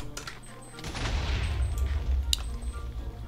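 Explosion in a video game: a burst of crackling, rumbling blasts with a sharp crack near the end, moderately loud and continuous for a few seconds with no talking.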